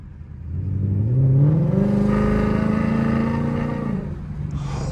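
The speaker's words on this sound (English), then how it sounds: "This car is loud. I need y'all to hear this" Loud Ford Mustang GT S550 V8 with a new engine revs hard up close outdoors, rising in pitch and holding a strong droning roar for several seconds before easing off.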